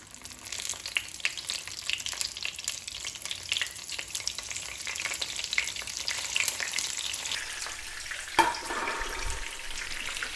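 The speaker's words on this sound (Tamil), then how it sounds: "இதை முழுக்க எடுத்துகிட்டு நம்ம இந்த எண்ணெயிலேயே கத்திரிக்காவை போட்டுடலாம்" Brinjal pieces fry in hot oil in a pan for a biryani, giving a steady, close crackling sizzle throughout with stirring noises, a sharp clink near the end, and no talking.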